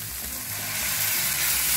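Filling for a stuffed snack stir-fries in a pan with cumin powder, tomato sauce, soy sauce and mashed boiled potato, giving a steady, close, broad sizzle that swells slightly toward the end, with no voices.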